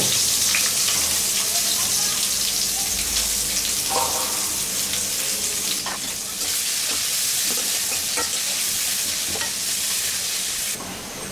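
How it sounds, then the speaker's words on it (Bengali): Chopped onion and garlic fry in oil in a pan for an ilish fish head curry, with a steady, close, loud sizzle and occasional stirring and clinks throughout, and no talking. "পেঁয়াজ কুচি কতগুলা দিয়ে এটাকে একটু ভাজবো"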